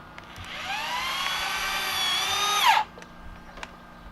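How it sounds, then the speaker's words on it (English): A cordless power drill drives screws into the wooden frame of a raised garden bed. One sustained, rising whine lasts about two and a half seconds and stops abruptly, followed by faint ambient knocks. "I pre-drilled holes in the wood into these support posts that I have in there, and put 3 screws in it just to keep it nice and tight"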